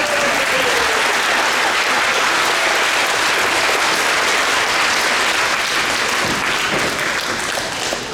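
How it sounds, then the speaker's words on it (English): Sustained, loud audience applause at a middle school symphonic band spring concert, a dense even wash of many hands clapping that continues steadily throughout with no speech over it. "Y'all can keep on clapping, she's gonna walk a long time."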